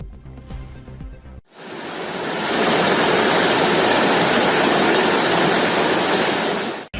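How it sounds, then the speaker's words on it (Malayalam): A small stream swollen by heavy rain rushes near Glenmary in Peermade, Idukki, a loud, steady roar of churning water that bursts in after a brief quieter lead-in and holds without pause. "ശക്തമായ മഴയിൽ കൈത്തോട്ടിൽ ജലപ്രവാഹം കൂടിയതോടെ"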